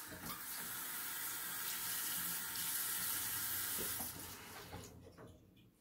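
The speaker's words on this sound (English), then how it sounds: "So now water's going on." Tap water runs steadily into a sink for about five seconds, a continuous broadband splashing hiss that stops abruptly near the end.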